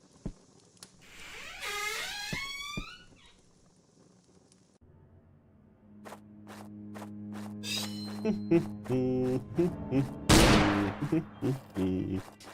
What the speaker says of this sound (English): So the gunshot noises are unintentionally funny?